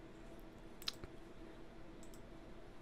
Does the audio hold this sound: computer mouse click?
yes